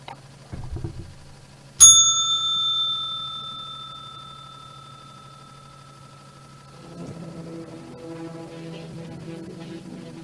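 A single bright bell strike marks the trading session, ringing out clearly and fading slowly over several seconds before a faint low background murmur returns.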